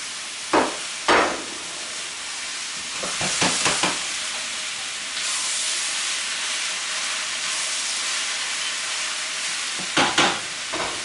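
Mushrooms frying in a pan with onions give a steady sizzling hiss throughout, broken by several sharp scraping stirs near the start and again at the end.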